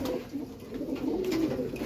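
Large pigeons coo close by in a soft, continuous, rolling murmur, with no talk over it.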